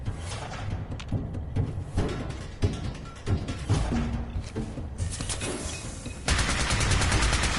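Gunfire in the Fallout 4 video game, Nuka World area: dense, loud bursts of rapid shots throughout, with sharp individual cracks and a heavier barrage closing it out.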